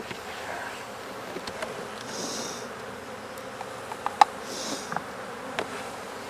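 Honey bees buzz faintly around an apiary hive in Jacksonville, Florida, with a quiet outdoor background, a few individual bees droning past up close, and small clicks and handling noises.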